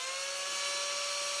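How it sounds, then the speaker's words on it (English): A small 12-volt cordless drill fitted with a Mixmaster beater whirs steadily and continuously at close range while mixing plaster of Paris, a high, even motor whine with no talking. "I happen to have a small 12-volt drill. And yes, that is a Mixmaster beater"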